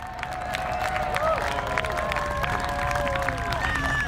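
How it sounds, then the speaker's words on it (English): A crowd at an air festival cheers and claps loudly and steadily throughout, with whistles and shouts rising over the continuous applause. "let's give him a big cheer and a big round of applause"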